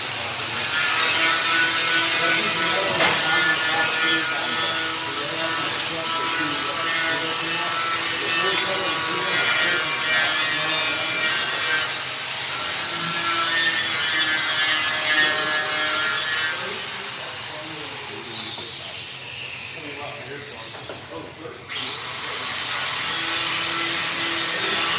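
Hand sawing through a wood board to trim it to a marked line, a loud, steady back-and-forth rasp that runs close and unbroken, then briefly slows near the end before resuming.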